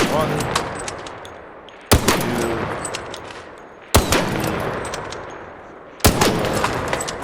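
Three loud, sharp gunshots ring out at roughly two-second intervals in the video game Arc Raiders, each followed by a decaying echo over a steady background of game ambience.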